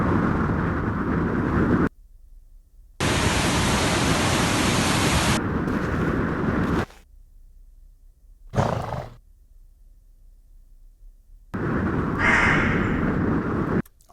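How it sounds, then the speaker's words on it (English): Sound-design layers of gusting wind and a cawing crow, heard in separate bursts: loud broadband wind swells cut abruptly between stretches of near silence, with brief harsh crow calls toward the end, no voices. "So that's why I'm adding that wind and also that crow."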